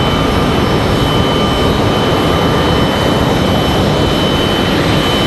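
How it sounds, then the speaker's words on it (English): American Airlines Boeing 737 Max 8 jet engines roar steadily at the end of a runway at Raleigh-Durham International, a loud, continuous low rumble with a high whine, with no pauses and no voices. "So the American Max 8 getting ready to go."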